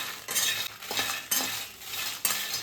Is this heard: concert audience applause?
no